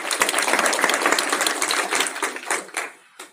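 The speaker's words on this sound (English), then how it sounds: "Give her a round of applause." An audience at a live wealth-building meetup bursts into dense, rapid applause that holds steady for a couple of seconds, then thins out and fades to a few scattered claps.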